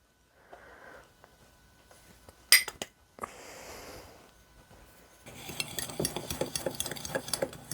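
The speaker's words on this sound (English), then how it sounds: "we're gonna mix the sugar, that's the 1/2 cup of sugar, and the 1/3 cup of flour" Dry sugar and flour being stirred together in a mixing bowl for blueberry muffins, heard as soft scraping and swishing, then a sharp clink of a utensil against the bowl and a busier stretch of rhythmic clattering stirring.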